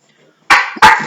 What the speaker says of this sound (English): rather sprightly dogs around here.